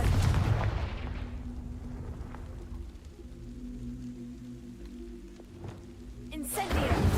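A Confringo blasting spell cast in Hogwarts Legacy hits with a loud, low booming burst at the start, then dies into a rumbling, ringing decay before another heavy blast swells at the end.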